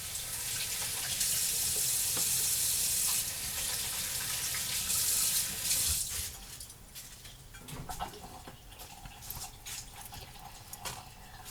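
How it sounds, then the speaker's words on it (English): Hands being washed under a running kitchen tap, heard as a steady, close stream of water for about six seconds, followed by softer splashing, rubbing and drips. "I'm going to wash my hands."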